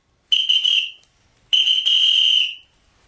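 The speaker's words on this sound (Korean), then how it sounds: "벼랑간 밖에서 호루라기 소리가 요란하고 고함 소리가 들렸다." Whistles blown twice outside a cliffside house in a Korean radio drama: two long shrill blasts, each about a second long, loud and close, separated by a brief silence, with no voices.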